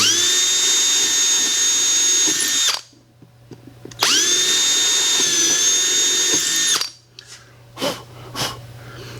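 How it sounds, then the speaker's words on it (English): A power drill whines loudly in two long bursts, each several seconds, drilling holes through boat gelcoat, separated by a brief pause, with some faint handling noises after. "I'm going to go ahead and run these out and drill them through"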